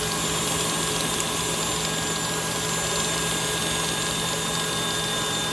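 A KitchenAid stand mixer beats mashed potatoes in a steady, loud, unbroken motor whir with a constant hum and no change in pace from start to end.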